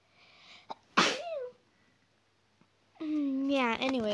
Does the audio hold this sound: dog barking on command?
no